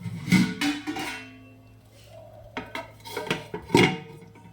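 A metal lid clanks onto a cooking pot of Bengali sukto vegetable stew, with a few sharp close clatters at the start, a quieter pause, then another burst of metallic knocks, and no speech.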